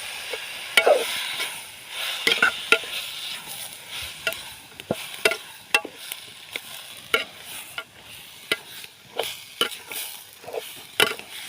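Meat curry sizzles in a pan as it is stirred, with a steady frying hiss and repeated sharp scrapes and clinks from a spoon against the pan, close and fairly loud.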